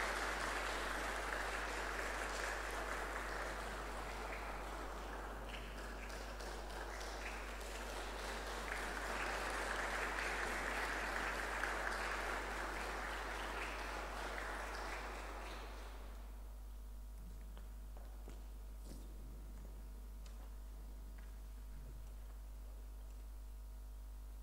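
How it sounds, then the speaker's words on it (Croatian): Sustained applause from a church congregation greets a brass group of horn, trombone and tuba at a parish church festival, dense and steady for about fifteen seconds before fading to a low hum. "Lijepo vas molim, srdačnim pljeskom ih pozdravimo."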